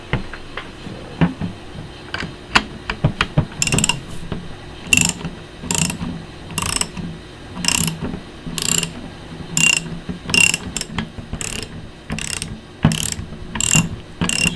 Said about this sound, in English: we're just going to go ahead and use a 15/16 socket. It goes around this nut.